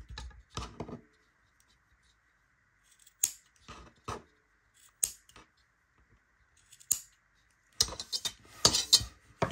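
Scissors snip macramé cords to 10 cm length, a series of short crisp cuts in irregular bursts separated by quiet pauses, close and clear with a few soft handling rustles.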